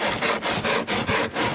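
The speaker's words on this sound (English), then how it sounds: "So I'm using this rasp instead of the draw knife." A hand rasp shapes the wood of a bow, rhythmic scraping strokes, about six even passes in quick succession, close and clear with no talking.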